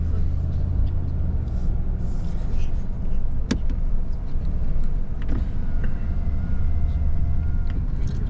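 Car cruising along a mountain road, a steady loud low engine and road rumble filling the whole stretch, with a few faint clicks and knocks from the cabin.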